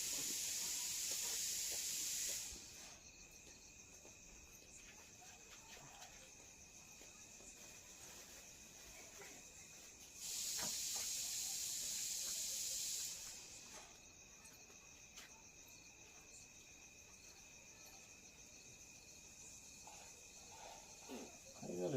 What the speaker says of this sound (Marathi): कुकरचा आवाज येतोय गॅसवर